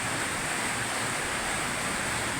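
Wind blowing steadily through Ampayon, Butuan City, Agusan del Norte during Typhoon Tino, a continuous broadband rushing roar like surf with no gusts or breaks, filling the whole moment with no talk.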